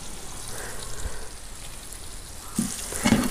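Buffalo leg meat coated in masala fries in coconut oil, a soft continuous crackling sizzle with a few louder pops and scraping stir sounds near the end, no talking.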